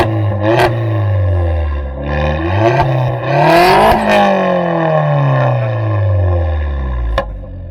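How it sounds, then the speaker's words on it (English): A Vauxhall Astra engine revving loudly up close, several sharp blips followed by a long rev that rises and then falls away, ending with a brief click. "Give it a rev again."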